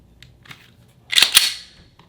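A Glock 19 Gen 5 fitted with a Timney trigger is dry-fired close up, giving a few faint clicks and then a sharp, loud snap of the trigger breaking, followed by a softer reset click.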